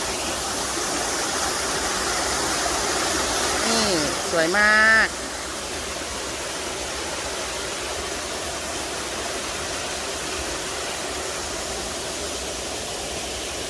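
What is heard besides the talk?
Alongkorn waterfall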